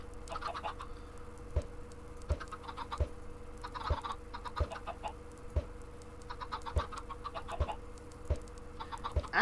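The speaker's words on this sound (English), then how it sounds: "Actually getting more chickens in here than I thought we would with just eggs." Minecraft chickens cluck repeatedly in a pen, the blocky game clucks scattered over a run of evenly spaced soft ticks, with no one talking.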